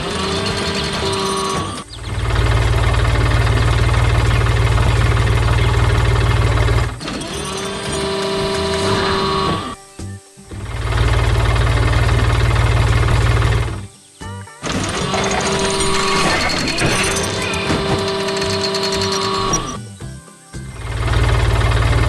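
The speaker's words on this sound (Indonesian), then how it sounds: "Lihat traktor biru yang sedang bekerja keras di tengah kebun bunga yang ceria" A blue tractor with a loader works in a farm field, its engine droning loud and steady in long stretches broken by brief pauses, with music-like tones layered over it.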